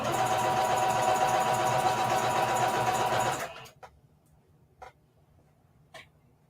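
A sewing machine stitches the seams of a bucket hat in one fast, continuous whir for about three seconds, then stops. A few soft clicks follow in the quiet.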